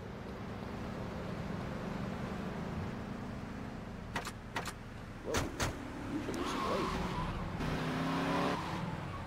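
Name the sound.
car driving in video game GTA Vice City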